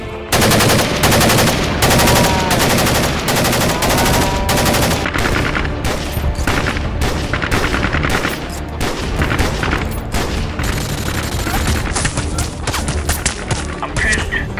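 Heavy gunfire in the colony game RimWorld during a Task Force 141 firefight, with loud rapid machine-gun bursts and overlapping shots in dense volleys, then choppier, more broken bursts later on.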